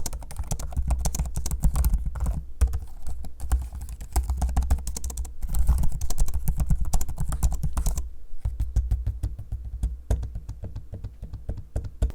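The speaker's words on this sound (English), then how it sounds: "Here's a sample of me using both the keyboard and the trackpad" Rapid, continuous laptop keyboard typing, close and crisp, with brief pauses and occasional trackpad clicks mixed in.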